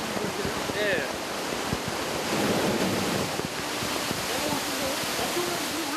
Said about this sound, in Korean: 이곳에서 물을 모았다가 한 번에 배출시켜 파도를 만들어낸다고 합니다